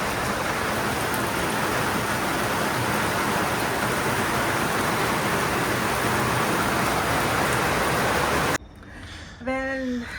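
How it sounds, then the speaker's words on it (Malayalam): Steady, dense rain pours outside a house in New Zealand, a constant loud wash of noise that cuts off near the end, followed by a brief voice. "ഇപ്പം നല്ല മഴയാണ്"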